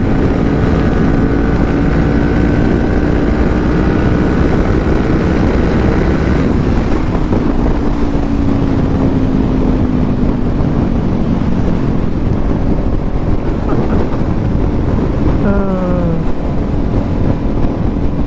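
Loud, constant wind roar buffets the microphone while riding a 2018 Kawasaki Ninja 400, with the engine's tone rising and falling underneath through gear changes.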